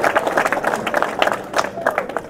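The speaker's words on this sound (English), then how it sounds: "So a round of applause for them." A crowd claps at a school cup final celebration, with scattered, moderately loud applause that comes in uneven bursts and is mixed with voices.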